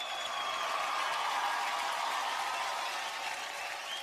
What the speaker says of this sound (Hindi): सो आज की शाम की शुरुआत करते हैं आपकी जोरदार तालियों के साथ।